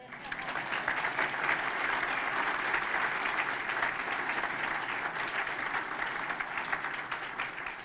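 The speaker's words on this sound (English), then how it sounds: "Now you may applaud." A civic audience applauds at a city's State of the City address, a dense, sustained clapping from a large crowd that holds steady for several seconds before easing off.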